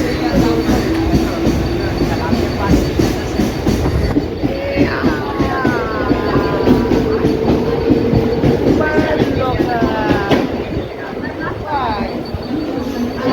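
A Mumbai local commuter train at Dadar station rumbles along with a rhythmic clatter of wheels on track and squealing metal, loud and close, with voices talking over it.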